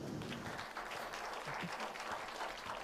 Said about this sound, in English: How about a nice round of applause for Randy Ingram on the piano?